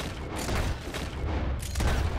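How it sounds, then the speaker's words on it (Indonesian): Dense bursts of video game gunfire and booming blasts crackle in quick succession, loud and close, with a heavy low rumble underneath. "gue denger di ujung sini ada suara tembakan"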